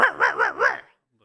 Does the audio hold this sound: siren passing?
no